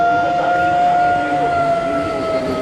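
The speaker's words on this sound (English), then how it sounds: "Siren of some sort going off." A siren wails steadily and loudly through Tallinn's old town on a Friday night, a sustained tonal blare that fills the street without a break.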